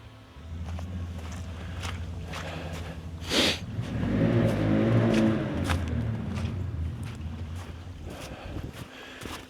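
An ATV engine revs near a boat setup, a low rumbling idle that swells into a louder, rising rev for a couple of seconds and then settles back down, with wind buffeting and occasional clunks around it.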